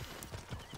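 Horse hooves galloping in Assassin's Creed Origins, a quick, faint run of rhythmic clip-clop beats over a short span, with no talk.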